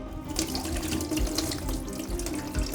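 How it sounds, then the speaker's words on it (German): Water pouring steadily as soaked dates are drained of their soaking liquid into a kitchen sink, a continuous close splashing flow with no talk over it. "Also jetzt werde ich die Datteln abgießen,"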